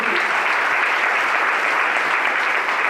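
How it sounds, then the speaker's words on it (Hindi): Steady, even applause from an audience at a talk, a dense wash of many hands clapping continuously without a break. "ताली बजा सकते हैं"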